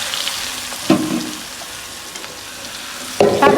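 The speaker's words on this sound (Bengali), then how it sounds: "কড়াইতে দিয়ে দিচ্ছি পেঁয়াজ কুচি" Chopped onions dropped into a hot wok after fish frying, giving two sharp bursts of sizzle with stirring scrapes and a steady hiss of frying in between.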